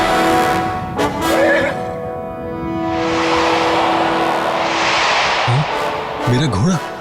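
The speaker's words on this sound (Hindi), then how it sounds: "मेरा घोड़ा।" A horse neighs and whinnies in a dramatic scene, loud and close, with a long rising whinny followed by shorter snorting calls toward the end.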